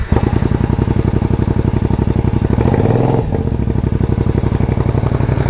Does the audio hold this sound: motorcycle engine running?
yes